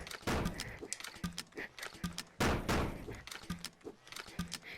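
Guns being reloaded in a video game give a run of sharp mechanical clacks and thunks, several loud hits in an uneven rhythm over about five seconds, with no talking.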